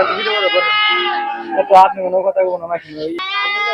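Goats bleat loudly and close by at a rural Sunday goat and sheep market in Benupur, Gazipur, with long wavering cries at the start and end and a shorter one in between.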